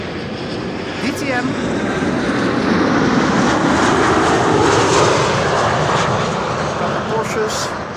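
A Nippon airliner arriving at Amsterdam Schiphol with flaps not yet deployed, its broad engine roar swelling steadily and holding loud throughout, with brief speech near the start.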